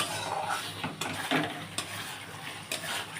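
Fried onions for egg korma are stirred in a pan over a high flame, with a continuous sizzle broken by several scraping, clinking strokes of a spoon against the pan.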